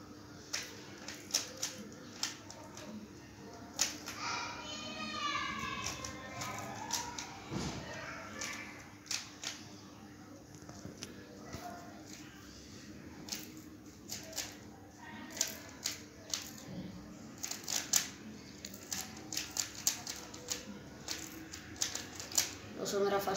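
Rubik's cube turned quickly during a timed solve, giving a dense run of small plastic clicks and rattles at close range, with a steady background hum throughout.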